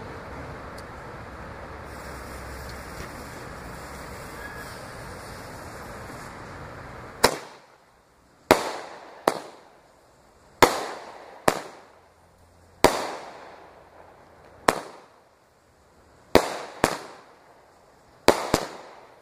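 Fireworks explode in a sharp series of about eleven loud, separate bangs at uneven intervals, each one echoing briefly, after a stretch of steady outdoor background noise.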